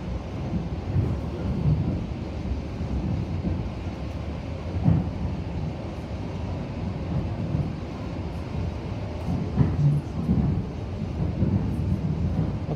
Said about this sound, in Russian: из вагона поезда